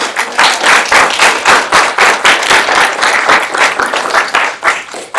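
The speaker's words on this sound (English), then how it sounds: "So a round of applause for" Student government senate meeting gives a round of applause: loud, close clapping in a strong rhythmic beat, as if the room claps in unison, continuing throughout.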